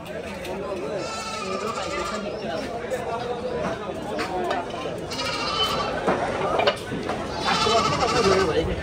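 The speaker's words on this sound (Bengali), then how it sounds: "আমাদের ছাগল আটকায় গেছে" Goats bleat repeatedly, several calls rising over steady chatter from a crowded village marketplace, with people talking throughout.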